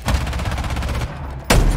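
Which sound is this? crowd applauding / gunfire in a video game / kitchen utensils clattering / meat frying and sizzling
gunfire in a video game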